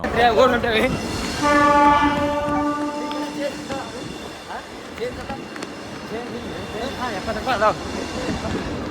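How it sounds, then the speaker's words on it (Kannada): A train horn sounds a long held tone near the start, followed by rumbling rail noise with people talking nearby. "ಟ್ರೈನ್ ಬಂದೈತ್ರಿ, ಹೊಂಟೇವ್ರಿ"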